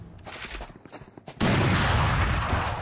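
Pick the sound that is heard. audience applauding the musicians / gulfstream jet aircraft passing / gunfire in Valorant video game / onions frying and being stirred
gunfire in Valorant video game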